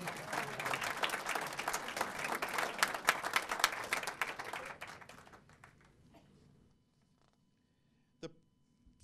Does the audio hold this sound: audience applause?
yes